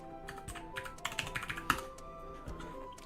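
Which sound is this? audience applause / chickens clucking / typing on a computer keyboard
typing on a computer keyboard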